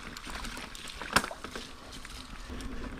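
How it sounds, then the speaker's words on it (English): A mountain bike splashes through a small creek crossing on an Indiana trail, with one sharp splash amid flowing water and trail noise. "One little baby creek crossing."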